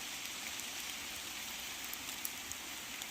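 A rain-fed stream flows along a trekking path to Sabarimala, giving a faint, even rushing hiss of water that stays steady without any voices.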